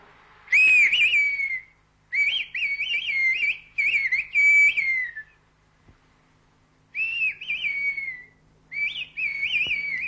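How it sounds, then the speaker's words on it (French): Bursts of shrill, melodic whistling rise and fall in phrases separated by short pauses, clear and fairly close: Pyrenean whistled language. "Le sifflement est produit par l'expiration d'une réserve d'air thoracique"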